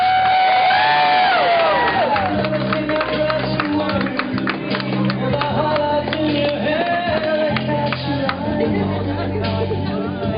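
Wedding guests cheer and whoop for the bride over loud music, a sustained crowd roar with scattered shouts running throughout.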